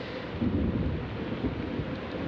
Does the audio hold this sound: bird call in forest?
no